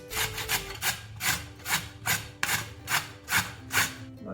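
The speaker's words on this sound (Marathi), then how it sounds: "आपली नेहमीची किसणी घेतलेली बारीक किस झाला पाहिजे आपला असं किसून दाखवते मी तुम्हाला" Radish is grated finely on a hand grater in a home kitchen, giving about eight rhythmic rasping strokes, each a scratchy swish at an even pace, close and clear with no talk.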